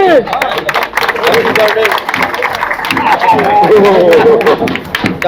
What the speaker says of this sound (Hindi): चलो भैया ताली बजाने